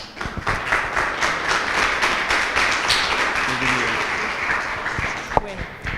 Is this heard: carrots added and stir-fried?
no